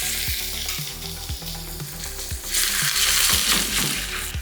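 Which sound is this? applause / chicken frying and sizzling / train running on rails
chicken frying and sizzling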